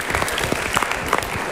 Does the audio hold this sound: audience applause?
yes